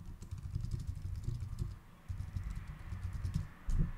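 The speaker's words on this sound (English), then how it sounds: "A shortcut with the keyboard to do that is to hold down shift and then press enter." Keys clatter on a computer keyboard while shift and enter are pressed during work in the WorkFlowy outliner app, a steady run of light, close clicks over a low background hum, with no one speaking.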